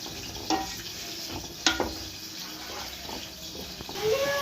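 Water simmering in a pan for upma, a steady bubbling sizzle with occasional clinks and stirring taps, close and moderately loud.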